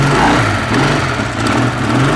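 Rare Edelweiss 250cc motorcycle engine revving, a loud close high-pitched buzzing drone with steady rising and falling pulses.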